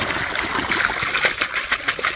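Water trickles and splashes as it flows across farmland on a coconut farm in the evening, a close, uneven babbling stream with small rhythmic gurgles and no speech.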